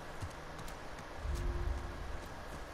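Horse hooves clip-clopping in The Last of Us Part II, a soft rhythmic thudding of a ridden horse's gait over a low ambient bed, faint and brief with a slightly louder cluster in the middle.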